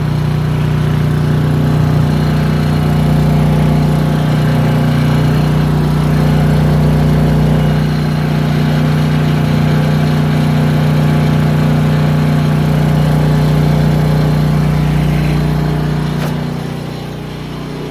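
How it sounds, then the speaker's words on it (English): A Honda EU2000 generator drones steadily under load, a constant close engine hum with a strong low tone that holds even for most of the stretch and dips slightly near the end. "I've been running the generator under different loads"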